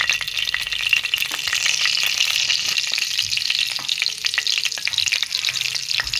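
Steady, close sizzling and crackling of cumin seeds frying in hot oil, a continuous bright hiss with small pops throughout and no voices.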